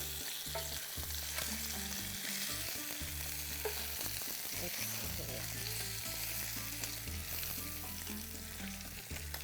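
Quails brown in a hot pan with a steady, loud sizzle and crackle of frying. Low thumps from the pan or utensils come through underneath, and no one speaks.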